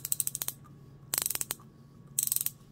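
P&C USA 3/8-inch open pear head ratchet clicking in three short bursts of rapid, crisp metallic ticks, close and clear, with quiet pauses between.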